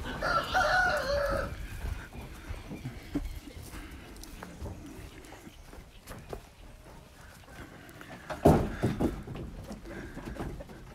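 Farmyard chickens at a rural smallholding where animals are being fed, with a rooster's crow and hen clucks at the start, then scattered clucking and movement, and a louder burst near the end.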